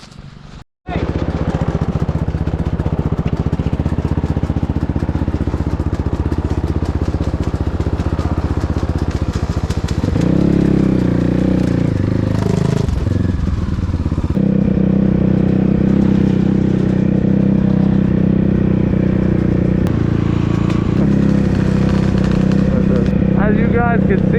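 A dirt bike runs on a snowy trail, its engine droning loud and steady throughout with shifts in pitch as it revs and idles, close to the rider; a voice may be faintly present beneath the engine.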